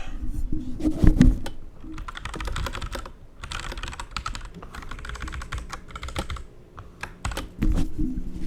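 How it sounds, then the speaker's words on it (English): Typing on a computer keyboard: steady clusters of quick, close key clicks in several bursts, separated by short pauses and a few louder thumps, with no talking. "I'll just type it"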